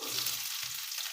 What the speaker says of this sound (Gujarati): આ ડુંગળી વઘારી દેવાની